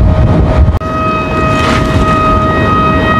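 Seven aluminium D25 whistles on a 2 m bird-shaped kite flying in strong sea wind, droning as steady layered tones over loud wind buffeting, with a brief dropout near the start.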